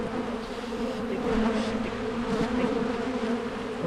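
Honey bees buzz on hive frames, a dense, steady hum of many insects close by with individual wingbeats rising and fading over it, no voices.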